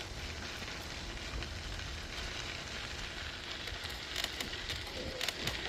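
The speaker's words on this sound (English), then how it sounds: "Got a few raindrops coming down" Light rain patters steadily along a riverside rail-trail near Markleton, Pennsylvania, with a soft broadband hiss and a few sharper drops near the end, heard alone with no talking.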